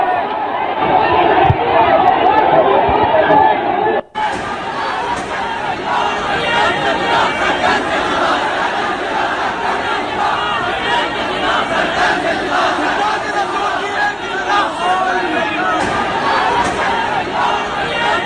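An angry crowd packed around a building in Pakistan roars and shouts continuously, a dense wall of many voices with overlapping yells; a brief cut near the start, then the massed shouting carries on, loud and close throughout.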